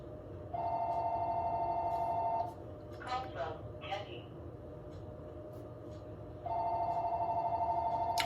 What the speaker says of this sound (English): the phone would be ringing